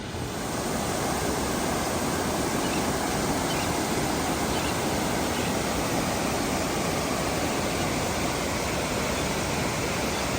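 A continuous, loud rush of falling water from a small waterfall by the harbor in Bar Harbor, roaring without a break, broad and unchanging from start to finish.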